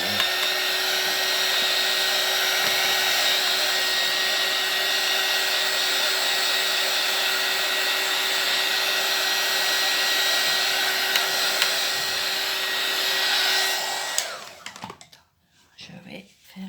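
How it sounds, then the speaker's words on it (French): A hair dryer blows on a painted card background in a loud, steady whoosh close by for about fourteen seconds, then cuts off, leaving faint handling sounds. "Un petit peu de séchage."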